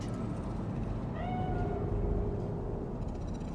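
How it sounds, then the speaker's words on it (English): Cat meowing in Cyberpunk 2077: a single drawn-out, rising-then-falling meow midway, faint against a steady low city hum, with no talk. "Do you see it? The cat?"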